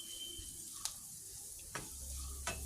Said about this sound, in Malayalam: കറിവേപ്പില ഇട്ട് കൊടുക്കണം ആ എണ്ണയ്ക്കകത്ത് തന്നെ